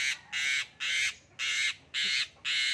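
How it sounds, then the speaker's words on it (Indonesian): A caged bird calls six times in a steady series of harsh, cawing squawks, each about a third of a second long with even gaps, loud and close against faint background noise. "Burung dalam sangkar."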